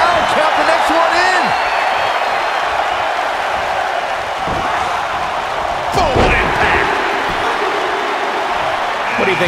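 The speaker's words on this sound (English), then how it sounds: "What a listen to this crowd" A large arena crowd at a women's Royal Rumble wrestling match roars and cheers continuously, with occasional thuds and whoops, loud and sustained, with voices talking over it.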